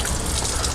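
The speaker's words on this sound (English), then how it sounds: "there is still water flowing here out of the sink that is not chlorinated tap water" Aquarium water draining by gravity into a sink, with a steady, loud, even gush and splash that keeps going without a break.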